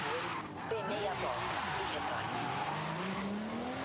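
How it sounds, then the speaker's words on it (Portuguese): A Lamborghini Gallardo convertible in Forza Horizon 5 roars along a straight with a steady, loud engine drone, its tires squealing in a long skid and the engine pitch rising as it accelerates. "vou marcar uma reta aqui pra gente testar a Lamborghini"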